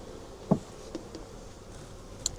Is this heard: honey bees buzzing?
yes